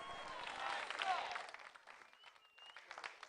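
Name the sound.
audience applause welcoming the Palace Ministers step team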